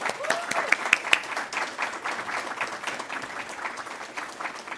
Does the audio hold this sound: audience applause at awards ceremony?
yes